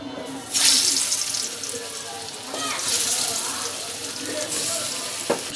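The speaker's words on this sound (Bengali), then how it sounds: "একটি কড়াইতে আমি পরিমাণ মতো তেল দিয়ে দিছি আর সেই মেরিনেট করে রাখা মাংসগুলো এখন আমি ভেজে নিব" Marinated chicken pieces hit hot oil in a wok, a loud close sizzle that surges in waves as the meat is added and moved around.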